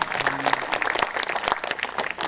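At a 45th-anniversary May 18 memorial ceremony, attendees applaud as a city councillor is introduced, with a brief, full burst of crowd clapping filling the hall.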